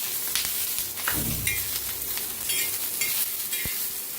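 Chillies frying with garlic and ginger in a pan, stirred with a spatula: a steady crackling sizzle with a few distinct scraping strokes of the utensil, close and fairly loud, with no talk.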